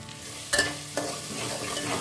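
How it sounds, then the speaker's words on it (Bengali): Biryani spices stir-fried in a pan for prawn biryani, a soft steady sizzle punctuated by two sharp spatula scrapes and clinks against the pan. "সমস্ত মশলাটা খুব ভালো করে কষিয়ে নিতে হবে।"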